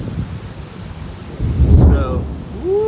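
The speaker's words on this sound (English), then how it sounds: "it's raining, thunder, and lightning right now" Thunderstorm at a house in Sapulpa, Oklahoma: rain patters steadily while a deep rumble of thunder swells midway, with a brief voice or whistle-like tone toward the end.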